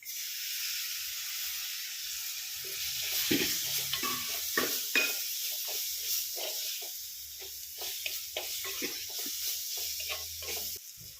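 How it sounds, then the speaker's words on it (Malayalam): Chopped tomato tipped into a sizzling masala for a clam (kakka) roast, with a steady frying hiss and repeated close scraping stirs from a spoon in the pan, no talking. "ഇതിലേക്ക് ഒരു ചെറിയ തക്കാളി ചെറുതായിട്ട് അരിഞ്ഞെടുത്തിട്ടുണ്ട് അതിടാം"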